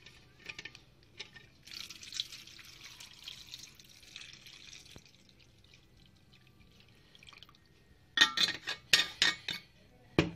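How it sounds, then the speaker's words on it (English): One liter of water is poured into a vessel at home, with a soft trickling stretch early on, then drips and clinking splashes that grow louder toward the end. "Let's pour the 1 liter of water into this."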